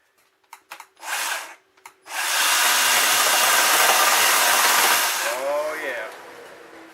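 A Worx electric chainsaw cuts steadily for about three seconds, loud and close, after a few short bursts of the motor revving, then it winds down as a voice briefly speaks.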